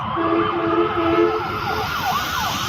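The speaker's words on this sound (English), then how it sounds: "An ambulance with sirens blaring seen leaving the Caddo County Detention Center" An ambulance leaves a county detention center with its siren blaring, a loud, close wail sweeping up and down over traffic and engine noise.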